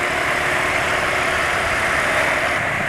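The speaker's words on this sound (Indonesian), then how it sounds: "Suara mesin sangat kasar sekali" A rough-running motorcycle engine idles steadily and loudly up close, a constant coarse rumble and clatter with no talk over it.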